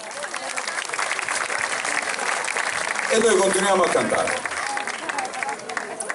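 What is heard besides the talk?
concert audience applauding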